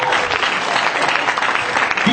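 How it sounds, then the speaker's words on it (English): Comedy club crowd at a recovery-themed stand-up set bursting into brisk applause, a thick continuous wash of clapping from a room full of people. "Round of applause."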